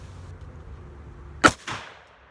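Two sharp gunshots from a Smith & Wesson M&P Shield pistol firing Liberty Civil Defense ammunition during a dirt torture test, a loud crack followed about a quarter second later by a second report, with no voices.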